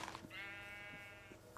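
A Minecraft sheep gives one drawn-out bleat lasting about a second, clear but quiet, with faint soft thuds of in-game movement around it.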